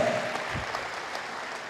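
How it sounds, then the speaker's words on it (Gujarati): Audience clapping at a Gujarati gathering, a steady, moderately quiet patter of many hands that holds evenly throughout without voices on top. "let's give big થન્ડરિંગ round of એપ્લોઝ to dear Narendra Bhai and Rajubhai"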